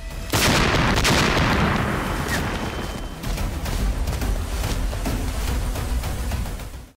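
A loud explosion booms in a film shootout between a sniper and her targets, followed by a long, rumbling roll of gunfire and blasts that stays loud throughout.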